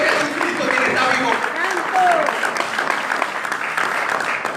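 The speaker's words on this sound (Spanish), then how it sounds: "Dale fuerte las palmas al Señor, dale fuerte las palmas al Señor." Church congregation clapping hands together in steady, dense applause during a worship service, sustained and loud, with voices calling out over it.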